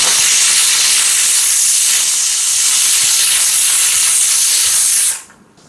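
Pressure cooker on a kitchen stove releases steam in a loud, continuous hissing rush that holds steady for about five seconds and then stops abruptly, with no talk.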